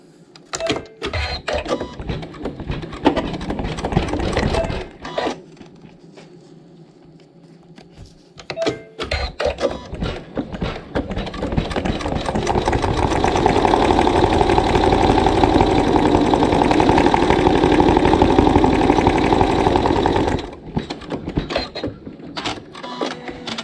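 An embroidery machine stitches a satin area across a Kraft-tex pineapple design, covering the join between the top and bottom pieces; a steady, close mechanical whir builds and holds for about ten seconds amid shorter start-stop bursts, with no talking.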